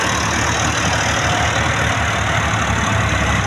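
A Sonalika tractor engine idles on a farm with a loud, steady, rough rumble that carries on unbroken, with no one talking.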